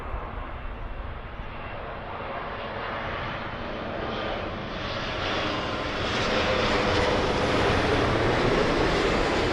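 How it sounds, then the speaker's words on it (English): Air Canada airliner from Toronto on approach to London Heathrow runway 27L, a broad steady jet roar that swells gradually louder as it nears, with no talk. "So, next one in then is Air Canada 789 from Toronto."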